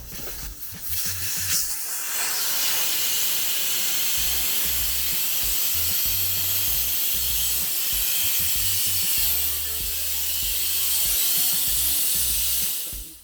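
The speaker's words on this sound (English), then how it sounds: "Step 1, take out the valve core." Air rushing out of a tire after the valve core is pulled, a continuous loud hiss starting after a brief clicking and holding steady to the end, close up, no voices.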